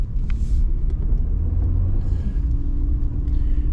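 A car driving home from Hardee's, heard from inside as a continuous loud low engine and road rumble with a steady drone throughout.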